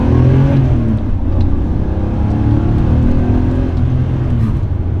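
A modified Porsche 964 Carrera 2 fitted with Carrera Cup exhaust pipes runs steadily, its engine note rising and falling in sustained revving for about five seconds, loud and close with no talk over it.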